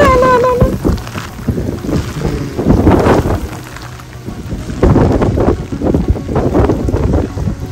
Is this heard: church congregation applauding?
no